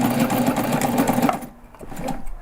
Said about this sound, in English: I'm gonna backstitch a little bit, but nothing major.